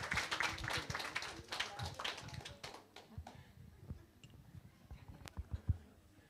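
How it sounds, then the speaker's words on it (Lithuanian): Applause at a birthday celebration: a quiet burst of many hands clapping for a few seconds, thinning into scattered claps and faint murmuring before fading. "Plojimai, plojimai, plojimai."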